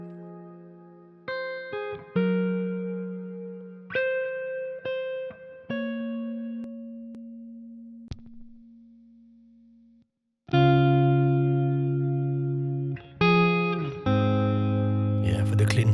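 An electric guitar plays clean tones through the Neural DSP Archetype Plini amp plugin. Sustained single notes and chords ring out and decay with gaps between phrases, followed by fuller strummed chords near the end.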